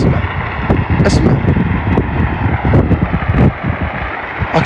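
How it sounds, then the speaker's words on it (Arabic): Strong wind roars and buffets the microphone during large wildfires in Tipaza, Algeria, with loud low rumbling gusts throughout the short stretch. "شوف الريح كبير مستحيل"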